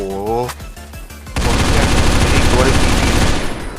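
Rapid automatic gunfire in the Roblox game Phantom Forces, a loud sustained burst of shots following a brief musical tone and a few scattered shots, close and dense.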